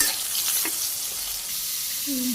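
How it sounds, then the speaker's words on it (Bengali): Bitter gourd slices frying in hot oil, a steady broadband sizzle throughout with a few light clinks of stirring. "বেগুন ভাজি নামিয়ে করলাগুলো দিয়ে দিলাম, তেলে ভাজি করে নিই।"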